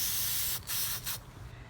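Gold spray paint misted in a light coat onto a Rawlings baseball glove label: a close, loud aerosol hiss with two short breaks between bursts, tapering off at the end.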